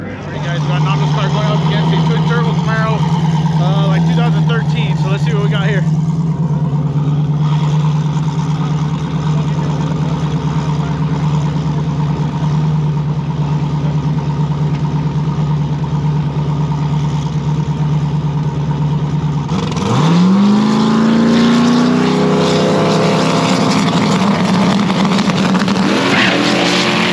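Race cars at a test-and-tune track day: a steady engine drone runs for nearly twenty seconds, then a car revs hard and accelerates away with rising pitch, loud and close, with some talk mixed in.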